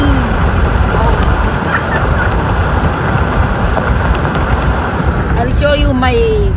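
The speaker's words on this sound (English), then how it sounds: "The wind is blowing." Strong wind buffets the microphone in open countryside, a loud continuous roar and rumble throughout, with faint voices briefly near the end.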